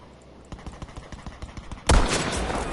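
Gunfire in Battlefield V's Pacific Theater: a steady run of separate shots at a regular rhythm, followed by a loud, dense burst that stays heavy to the end.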